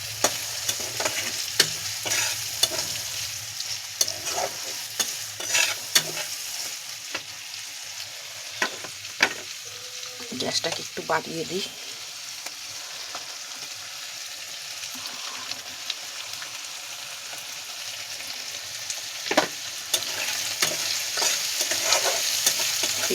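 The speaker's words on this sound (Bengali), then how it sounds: "পেঁয়াজটা এবার আমাদের ভাজা হবে, হালকা ভাজা হবে।" Onions fry lightly in a pan with chopped green chilli, a steady sizzle broken by repeated scraping stirs and clanks of a spatula, while someone speaks briefly over it.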